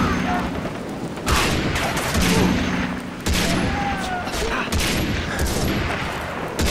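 Rapid gunfire in the first-person shooter Far Cry 3, dense bursts of automatic shots and heavy blasts rattling almost continuously at close range throughout.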